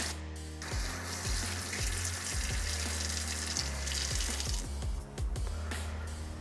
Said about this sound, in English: We're going to rinse that out.